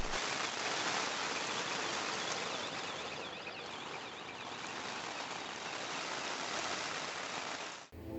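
Steady rain falls outdoors after work on a car's hybrid battery pack, a dense continuous hiss held at even loudness for about eight seconds, alone with no voices, cutting off abruptly at the end.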